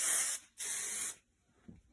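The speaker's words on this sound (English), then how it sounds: "Give a little hairspray." Two short, bright hisses of hairspray misted over braided hair, each burst under a second with a brief gap between them, followed by quiet and a faint rustle.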